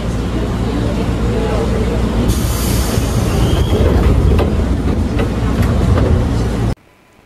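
A KRL Jabodetabek commuter train rolls off after its doors close, a loud, close rumble of wheels and carriage with a brief high squeal and clatter partway through, then an abrupt cut to near silence.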